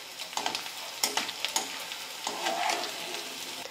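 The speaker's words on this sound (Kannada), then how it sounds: "ಸ್ವಲ್ಪ ಹಾಕ್ಕೊಂಡು ಫ್ರೈ ಮಾಡ್ಕೋಬೇಕಾಗ್ತೈತ್ರಿ ನೋಡ್ರಿ" Edible gum frying in ghee in a pan, with a soft, close sizzle and a few light scraping stirs of a spoon across the surface, quiet and without talk.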